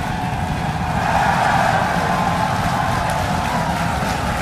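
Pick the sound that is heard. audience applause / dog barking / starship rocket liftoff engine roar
starship rocket liftoff engine roar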